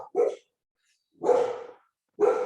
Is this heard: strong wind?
no